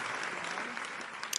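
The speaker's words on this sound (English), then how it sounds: "as that applause track wraps up" A short applause track, dense and even clapping from a crowd that holds steady and begins to thin out at the very end.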